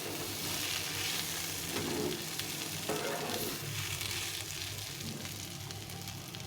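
Leftover rotis fried into a snack sizzle steadily in a pan while being gently stirred, a continuous close frying hiss with occasional scraping.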